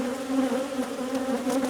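Honeybees hum in a dense, steady drone close by while a hive is being split, a continuous swarm of buzzing with slight wavering pitch and no voices.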